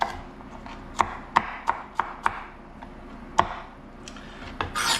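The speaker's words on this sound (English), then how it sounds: "Green pepper cut up." A knife chops through green pepper on a board in a run of sharp, close, irregular strikes, some quick and some spaced out, with a faint clatter at the end.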